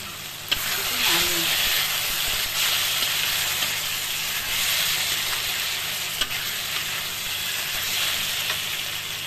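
Small morola fish curry with turmeric, salt, potato and eggplant sizzling and hissing steadily in a hot pan, with close stirring scrapes and a few sharp clinks of a spatula.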